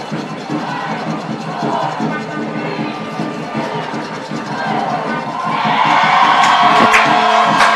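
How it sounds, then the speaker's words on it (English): A crowd cheers and applauds after Spring Arbor's 4-0 college soccer win over St. Francis, a steady murmur of voices swelling into louder cheering and clapping, heard from a distance with a commentator's voice over it. "And the crowd shows their appreciation for a 4-0 Spring Arbor win."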